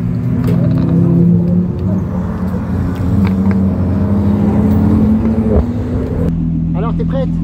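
Renault 5 replica car at a track day, a steady close engine rumble running continuously under ongoing talk, with a faint higher whine near the end.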